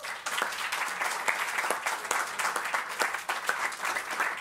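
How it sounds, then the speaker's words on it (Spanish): Audience applause at a Campus Party Mexico website presentation: dense, steady clapping from a crowd that runs evenly for the whole stretch, with scattered sharper individual claps and no voice over it. "¡Un aplauso! ¡Aplausos!"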